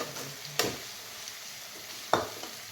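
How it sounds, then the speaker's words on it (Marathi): Capsicum and carrot fry on a tawa for veg pulao, a quiet low sizzle broken by two distinct scraping stirs of a spatula against the pan. "मग त्याला थोडं फ्राय करून घेऊ"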